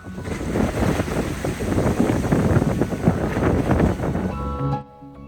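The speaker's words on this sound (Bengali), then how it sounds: "আজকেও প্রচণ্ড হাওয়া দিচ্ছে বলে সমুদ্রের ঢেউ এত বেশি" Strong wind at a beach buffets the microphone with a roaring, gusting rush, surf noise from high waves mixed in, then cuts off abruptly near the end.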